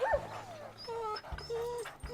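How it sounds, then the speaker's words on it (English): Dogs on a sled team whimper and whine in high, wavering cries, joined by a few short yips and barks close by, with no talk in between. "Sled dog has to get along with his teammates."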